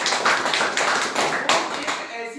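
An audience at an academy event claps loudly, a dense burst of applause lasting a couple of seconds.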